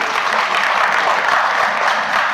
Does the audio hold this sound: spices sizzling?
no